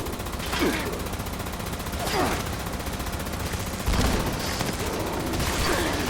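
Rapid, overlapping gunfire bursts from Fallout 76 combat keep up a dense, steady barrage for several seconds, with a few louder volleys standing out.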